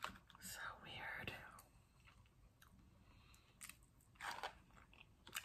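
Sugar-free xylitol gum is chewed close to the mic, with soft wet smacking and crunchy bites in short bursts between quiet gaps, alongside some whispery voice.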